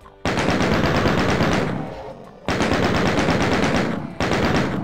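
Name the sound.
shotgun blasts in video game Doom 2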